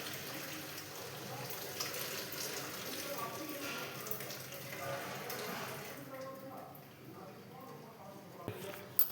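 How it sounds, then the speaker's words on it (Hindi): Water from freshly cooked rice is drained off in a steady splashing, hissing pour that runs for several seconds before tapering away at the end. "गाइस मेरे चावल भी बन चुके हैं, मैं निकाल देती हूँ उनका पानी।"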